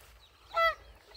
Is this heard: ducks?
yes